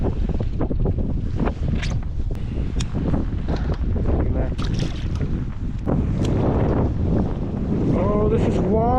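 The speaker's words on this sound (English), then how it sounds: "This wind hasn't let off yet." Strong wind on Lake Norman buffets the microphone with heavy, continuous roaring gusts from a boat on choppy water, and faint voices are partly buried beneath it.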